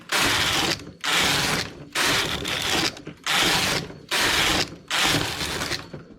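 A knitting machine making cords rattles in six regular passes, each a loud clattering carriage stroke of about a second with brief pauses between, close by and with no voices.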